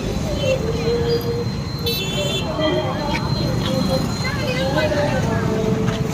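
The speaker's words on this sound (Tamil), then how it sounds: "இங்கே நல்லாவே டிராஃபிக் வர்றதை பார்க்க முடியுது" Busy road traffic during a Vinayagar Chaturthi festival in Cheyyar, a steady rumble of vehicles with several short horn toots standing out, while people talk nearby.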